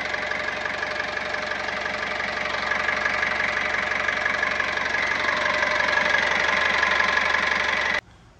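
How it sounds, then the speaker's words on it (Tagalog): A Cummins diesel engine in a Foton Traveller with about 160,000 km, all stock, idles steadily after a fuel filter change, giving a close, continuous knocking rumble for about eight seconds before cutting off abruptly. "Ito yung Cummins engine natin,"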